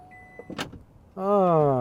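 A few clicks and a short thump, then a smooth electric motor whirs steadily as the powered door of a Denza D9 electric MPV closes, close up.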